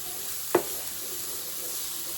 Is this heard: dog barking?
no